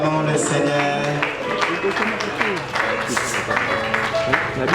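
A congregation applauds at a funeral service, with steady clapping from a crowd that runs throughout under some spoken voices.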